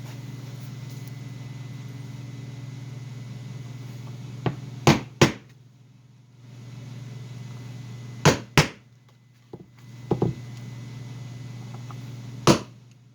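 Sharp metallic hammer strikes on a piece of fuel line used as a hole punch land in pairs and singles at irregular intervals over a low steady hum; no talking.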